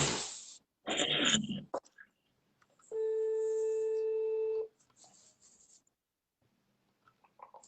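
Telephone call tone: a steady electronic tone lasting about a second and a half, standing alone between brief bursts of noise and faint rustling.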